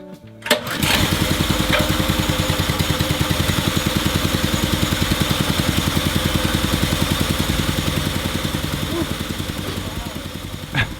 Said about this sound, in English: that's pretty loud. It's a generator right near us.